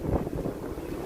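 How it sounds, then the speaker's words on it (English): Wind gusting outdoors at a Disney theme park at night, a steady low rushing roar buffeting the microphone, loud and continuous with no talk. "It is getting kind of windy here."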